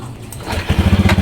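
A motorcycle engine catches after a kick start, rising from a low sputter into a steady, pulsing idle close by, with no one talking over it.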